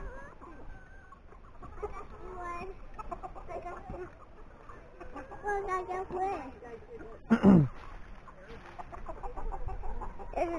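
Chickens, including Buff Orpingtons, cluck and murmur in a backyard flock, nearby and fairly steady, with a louder squawk partway through while a child and an adult talk.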